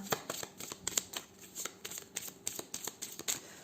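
Playing cards for a tarot reading are shuffled and handled close by, a quick run of crisp riffling flicks and snaps in an irregular rhythm, with no talking.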